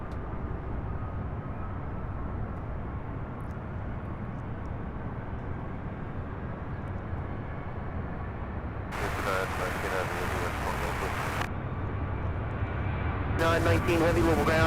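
A Southwest Airlines Boeing 737-700 airliner bound for Baltimore at Louisville's SDF airport rumbles steadily as a broad, continuous engine roar that grows slightly louder toward the end, with someone talking over it.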